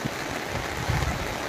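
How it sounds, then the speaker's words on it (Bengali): Heavy rain pours down on the streets, a dense, steady hiss filling the air with no voices over it. "প্রচন্ড বৃষ্টি হচ্ছে,"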